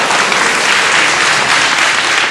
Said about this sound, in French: Mais est-ce que vous tapez dans vos mains comme des cons, là?